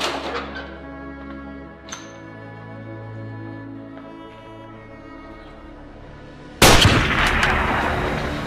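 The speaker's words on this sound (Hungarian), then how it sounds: "Francba, egy sniper! Ez ellen nincs esélyünk!" A sniper rifle shot rings out in the 2019 Hungarian comedy film Gamemasters 2.0: a sharp crack over a droning, tonal backdrop, followed later by a sudden loud blast with a rumbling, noisy tail.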